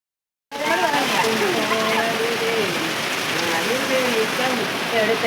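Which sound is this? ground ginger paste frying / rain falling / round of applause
rain falling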